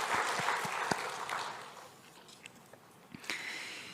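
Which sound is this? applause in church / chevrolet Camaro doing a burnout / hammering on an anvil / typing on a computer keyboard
applause in church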